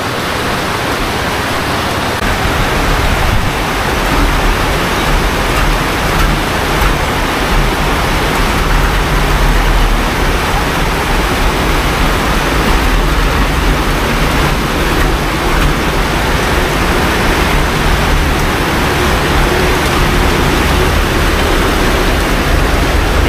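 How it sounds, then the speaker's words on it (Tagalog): Heavy rain pours down steadily during flooding, a dense, continuous hiss that stays loud and unbroken throughout. "Kanina okay pang panahon, biglang lumakas lang ulan."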